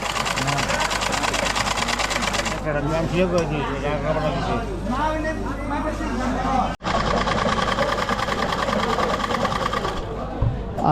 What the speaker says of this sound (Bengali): তো গ্রামীণ হাটে এই ধরনের চট কিন্তু এই যে সেলাই করা হচ্ছে।